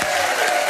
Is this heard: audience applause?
yes